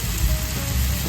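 Chopped onions for hamburger sizzling steadily in a hot pan, a close, loud, continuous frying hiss with no talk.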